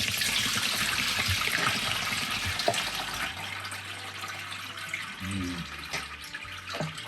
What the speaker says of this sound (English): Let's see if I can pour it without spilling it.